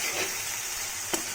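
Egg and onion masala stirred in a pan, a steady soft sizzle with faint scraping and one brief knock of the spoon near the end, quiet and close.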